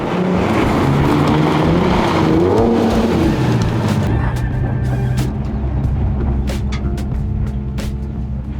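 A Nissan 370Z fitted with an angle kit and new rear arms drives along a road, its engine droning loudly and steadily with a shifting pitch throughout, close and continuous with no talk.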